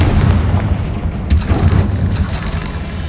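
A Confringo fire spell bursts in the Hogwarts Legacy video game, a loud booming explosion over a dense, rumbling game soundscape with a sharp crack partway through and no talk.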